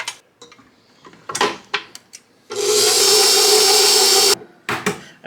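Molasses, softened butter and water being mixed for Christmas baking: a few clinks and scrapes against the bowl, then about two seconds of loud, steady whirring mixing, followed by more light knocks.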